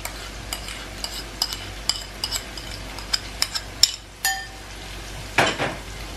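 Eggplant for baigan bhujiya frying in a pan, with a steady low sizzle under repeated sharp clinks and scrapes of a spoon stirring against the metal, then a louder clatter near the end.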